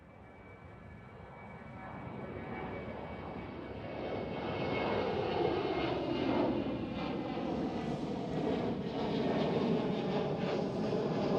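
Georgian Airways Boeing 737-700 jet engine roar at Schiphol Amsterdam, swelling from a distant rumble to a loud, steady broadband roar with a shifting whine as the aircraft passes close, no talk.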